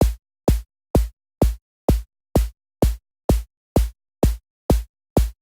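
A synthesized kick drum with an added noise oscillator thumps twelve times in a steady, even beat, each hit carrying a short burst of hissy noise on top.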